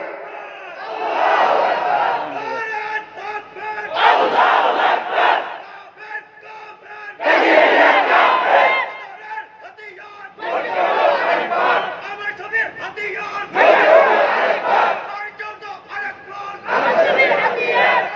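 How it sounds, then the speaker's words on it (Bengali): A large crowd at an Islamic sermon gathering roaring the takbir slogan in unison, loud, rhythmic bursts of massed voices answering call after call, separated by brief pauses. "বাতিলের বিরুদ্ধে হুঙ্কার দিয়ে বলতে হবে নারে তাকবীর"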